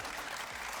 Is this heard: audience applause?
yes